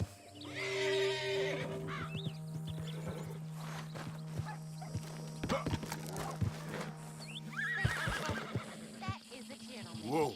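A spooked horse in Red Dead Redemption 2 whinnies loudly several times, with shrill neighs near the start and again toward the end, over hoof clops, a steady game hum and talk.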